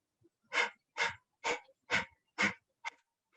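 Rapid yogic breathing exercise: six forceful, evenly spaced breaths pushed out through the nose in a steady rhythm, close and clear with silence between them and no talking.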